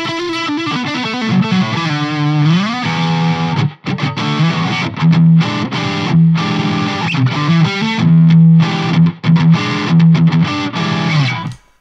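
Electric guitar played through a Nembrini Audio MP1 Pro programmable tube amplifier on a heavily distorted setting, hair-metal style, sustained chords and riffs with a brief break near four seconds, loud and upfront with no talk.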